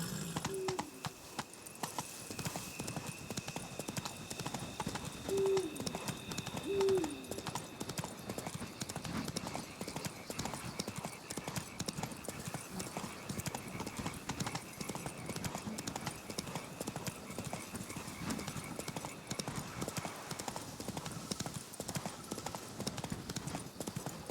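Hooves of a horse in The Witcher 3 clip-clop steadily at a gallop for the whole stretch, close and continuous, with a couple of brief neighs early on and a voice urging the animal briefly.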